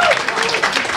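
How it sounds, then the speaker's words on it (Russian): A crowd at a morning radio show claps to welcome a blues guitarist, a brief dense burst of applause under a raised voice. "Ваши аплодисменты"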